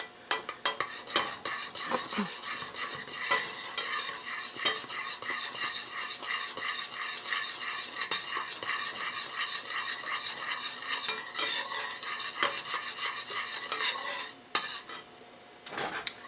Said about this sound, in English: I want this to boil for about 3 to 4 minutes so it can thicken up to the right consistency